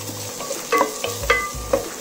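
Roasted gram, cashews and coconut being stir-fried in ghee, with soft sizzling and a few light scraping stirs of a spoon against the pan, close and steady.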